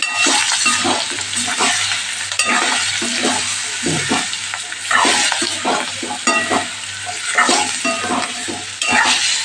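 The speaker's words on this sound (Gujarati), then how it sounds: "અડધી ચમચી જેટલું લાલ મરચું પાવડર ઉમેરશું તમે તીખું ન ખાતા હોય તો ન ઉમેરો તો ચાલે બધું સરસ આપણે મિક્સ કરી લઈશું" Spiced dhokla batter with red chilli powder being stirred and mixed in a pan, a steady run of scraping, stirring strokes over a soft sizzle, close and fairly loud with no talking.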